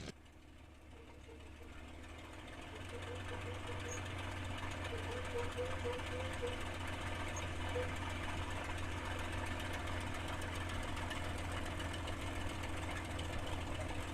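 A TF-51 Mustang's piston aircraft engine idles steadily at 1500 RPM during warm-up before takeoff, a loud continuous low rumble that builds over the first seconds and then holds even throughout.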